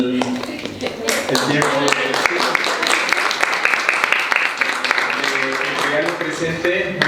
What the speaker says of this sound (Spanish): le damos nuevamente un aplauso al profesor Becerra